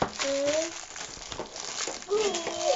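Plastic crinkles and rustles in bursts close by, while a voice chimes in between the sounds.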